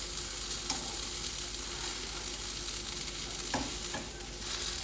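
Souffle omelette frying in a pan during an attempted flip, giving a steady broadband sizzle throughout with a couple of faint scraping clicks, fairly close and with no talking.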